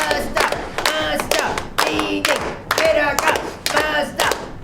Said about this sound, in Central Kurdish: دەی چەپڵەکانتان ئەبێ چەپڵەکان لێبن